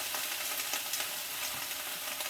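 Cabbage tipped into a pan of browned beef smoked sausage, a steady dense sizzle and crackle of frying, close and even throughout, with faint stirring.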